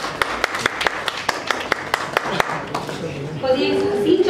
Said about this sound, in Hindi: विनोद जी के लिए भी जोरदार तालियां हो जाए।